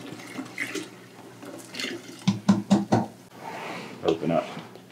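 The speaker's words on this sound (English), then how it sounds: "I'm going to add 1/2 gallon to each one of these vessels first" Liquid for a blueberry lemon cider is poured into fermenter vessels, half a gallon each, with sloshing splashes and several sharp knocks of container against vessel, fairly close.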